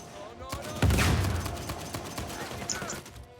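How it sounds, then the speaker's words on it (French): Gunfire in the PS4 game Uncharted 4 at a pirate village, one heavy loud shot followed by a rattling tail and lighter scattered shots, with a player voice faintly present. "Qui me tire dessus?"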